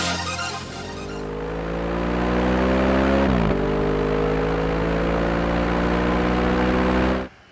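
An Audi RS5 engine revving hard and close, a loud sustained roar climbing steadily in pitch through the gears with a brief dip midway, then cutting off abruptly at the end.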